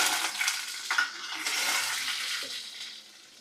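Dried red chillies and curry leaves crackle and splutter in hot oil for tempering a green chilli peanut chutney, a dense steady frying hiss with a few sharper pops, heard up close with no talking.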